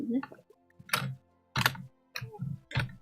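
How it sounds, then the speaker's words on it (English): Computer keys being played with, heard as short clustered bursts of clicking and tapping separated by brief pauses, fairly close and crisp. "The little background of him playing with the keyboard?"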